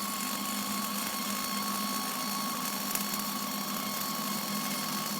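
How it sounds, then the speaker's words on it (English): A Millermatic 211 MIG wire feed welder runs a weld bead with shielding gas flowing, giving a steady, even buzzing hiss with a faint hum throughout and one brief pop near the middle. "He's blowing the gas in to keep the weld clean. And he's running that bead."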